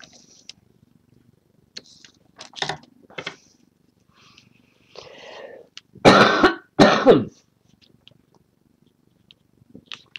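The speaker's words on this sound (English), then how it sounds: "That's so hard when that coughing attack comes on." A few harsh, raspy coughs come in bursts, two strong ones close together, amid quieter throaty sounds and pauses.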